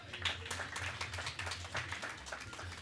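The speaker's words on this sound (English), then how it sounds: "A round of applause for my panelists." Applause from an audience greeting a panel at a sustainable development forum, steady dense clapping that carries on through the whole stretch at moderate loudness, with no talk over it.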